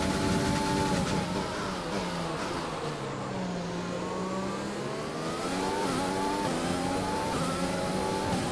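Lewis Hamilton's Formula 1 race car in the F1 2020 video game at the Chinese Grand Prix, a high-revving engine whine that swoops down in pitch as it passes close by, then climbs again as it accelerates away.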